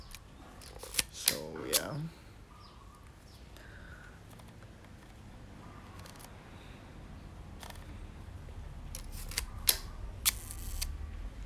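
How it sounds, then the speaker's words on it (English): Zeiss Ikon Contina camera fitted with a Novicar 45mm f2.8 lens, its shutter firing in a few sharp, close mechanical clicks near the start and a quick cluster later, over quiet room tone with a brief spoken word. "the shutter fires"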